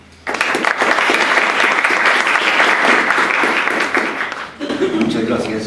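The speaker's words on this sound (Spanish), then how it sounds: "hoy pues le damos un fuerte aplauso por eso" Loud, dense applause from an audience at a university book launch, starting abruptly and holding steady for several seconds, briefly dipping near the end before swelling again, with faint talk underneath.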